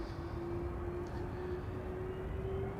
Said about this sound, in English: The A330 is pulling up.